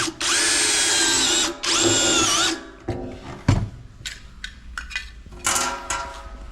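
A power drill driving screws while a sewing machine stand pedal is assembled, two loud sustained whirring runs followed by clattering metal parts, taps and small handling knocks close by.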